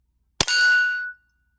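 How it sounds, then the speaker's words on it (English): One suppressed shot from a Smith & Wesson M&P 22 pistol: a single sharp crack followed by a bright ringing tail that fades within about a second, loud and alone in otherwise quiet surroundings. "5 more rounds, and we'll check it out to see how quick it's gonna be or how low it's gonna be with a suppressor"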